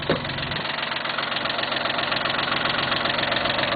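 Cub Cadet diesel engine running just after a hard start, a loud, close, steady idle with a rapid knocking clatter and no talking.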